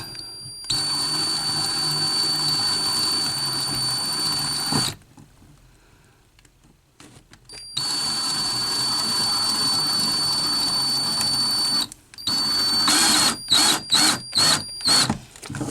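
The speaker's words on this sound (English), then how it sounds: "So we take our drill and our bit, line it up, and try to get it as straight as possible" A power drill boring a hole to mount a surge protector, running loud and steady in two long bursts with a short pause between them. A few quick on-off triggers follow at the end.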